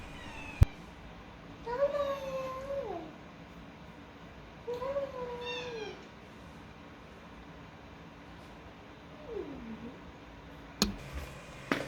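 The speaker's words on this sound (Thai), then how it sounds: "พอออกมาก็เจอแมวรออยู่เลย" A cat meows three times in a quiet indoor room, with drawn-out, wavering calls spaced a few seconds apart, moderately close and alone with no talking.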